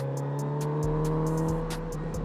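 Kawasaki Z900RS motorcycle engine revving hard in a short run, a loud rising whine that dips briefly at each shift, with wind buffeting over the top.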